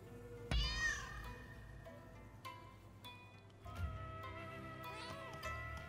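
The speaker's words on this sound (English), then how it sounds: "The feral cats of Ogasawara Island." Feral cats meowing on Ogasawara Island in the Rise of the Ronin video game, a loud sharp yowl up front followed by several softer meows and game tones over a few seconds.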